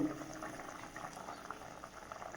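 A pot of vegetable curry bubbles steadily at a boil, a dense, continuous simmering hiss with soft popping heard close up and without pause.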